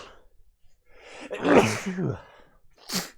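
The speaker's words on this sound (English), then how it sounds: "I immediately realized that I'm gonna sneeze." A single loud sneeze from the video game Robotics;Notes Elite, with a sharp intake of breath before it, followed by a brief exhale or sniff.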